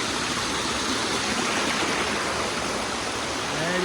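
Thousands of gallons of water pour down a 9/11 memorial waterfall, a steady, dense broadband roar heard up close that stays constant and unbroken throughout, with no talking over it.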